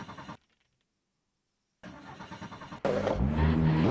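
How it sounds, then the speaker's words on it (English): A rally car engine cranks briefly during the Iasi Rally, Eastern European Rally Championship, cuts out into silence, then turns over again and catches, roaring loudly as it revs up close by. "And finally he can get the car going"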